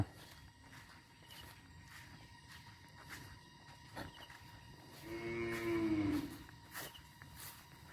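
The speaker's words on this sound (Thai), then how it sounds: "อันนี้คือคอควายของเราเอง" Water buffalo lowing at dusk as they are brought in from the rice fields, one clear drawn-out low moo near the end over a quiet rural background with faint footsteps.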